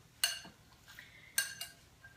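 Scallions stirred in a pan, with a utensil striking the metal in two sharp clinks about a second apart over a quiet background.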